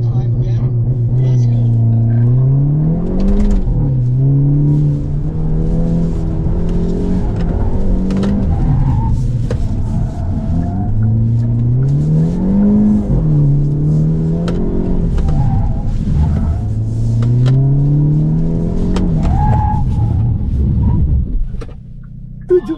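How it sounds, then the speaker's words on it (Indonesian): A Hyundai Ioniq 5 N driving a slalom on a test course in Korea, a loud, close electric drive whine rising and falling in repeated sweeps with each weave, tires scrubbing throughout. "kita disuruh slalom ini supaya tahu maksimalnya mobil"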